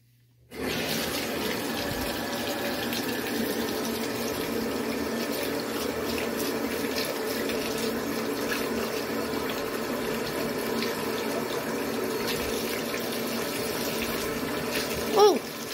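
A shower runs steadily as an even, continuous hiss of spraying water, close and unbroken for the whole stretch, with a brief knock near the end.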